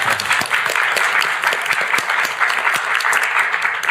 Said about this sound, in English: Yes, that's an applause line.